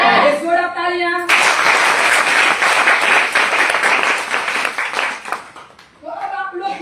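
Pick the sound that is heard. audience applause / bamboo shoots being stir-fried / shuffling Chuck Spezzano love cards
audience applause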